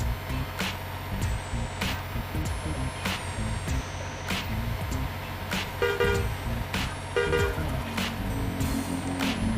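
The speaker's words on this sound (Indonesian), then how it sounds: "di sini kita klakson lagi teman-teman" Horns toot in short bursts from a rice delivery truck driving through traffic from Merak toward a Jakarta market, with several brief honks over a steady engine rumble and passing road noise.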